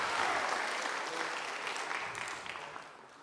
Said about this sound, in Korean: 다시 한번 여러분들 박수를 보내주고 응원하십시오.